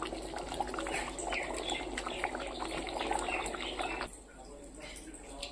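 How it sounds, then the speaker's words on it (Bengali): Hot ghee is poured over a simmering egg curry, raising a steady liquid sizzle and bubbling close by. The sound drops off sharply near the end, and faint voices run underneath. "তো এবার এই যে ঘি, এবার গরম গরম একটু ঘি দিয়ে নামিয়ে নেব।"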